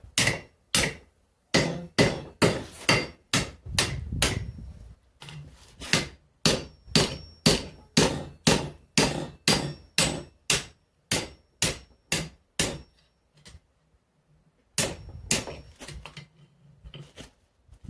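Steel for an axe is forged on an anvil, a hammer striking in steady rhythmic bursts of sharp ringing blows, close and loud, with a brief pause before the strikes resume.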